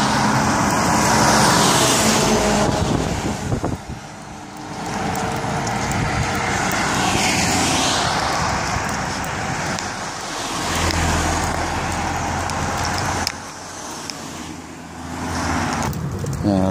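A truck passes on a road in France near the vehicle, its loud engine and tire roar swelling and fading over steady traffic noise.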